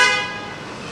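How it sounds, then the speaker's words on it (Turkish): A car horn blares loudly at the start, a sustained bright honk that trails off, with street noise underneath, on an Istanbul street. "Ya ama korna çalma ya."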